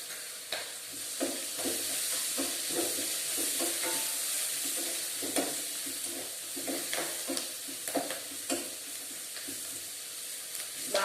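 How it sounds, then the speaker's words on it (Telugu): Curry with turmeric fries in a pan, a steady bright sizzle broken by repeated scraping stirs of a spoon against the pan, close up and without voices. "ఇది బాగా ఫ్రై అవ్వాలండి"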